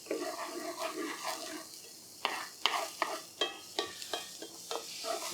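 Shallots and lemon rind with seeds sizzle and crackle in hot olive oil, a steady frying hiss broken by several sharp stirring scrapes and clicks in the second half, close and fairly loud.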